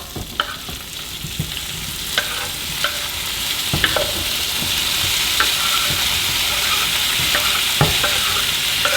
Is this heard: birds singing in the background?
no